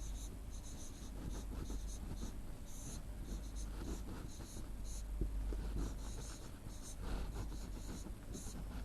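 Chalk or marker writing on a board during a maths lesson, a series of soft scratchy strokes and taps in uneven bursts over a low room hum, fairly faint.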